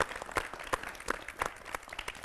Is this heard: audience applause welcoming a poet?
yes